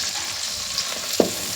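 Curry leaves, garlic, onion and tomato frying in oil, a continuous close hiss of sizzling with a single brief knock of a spoon against the pan.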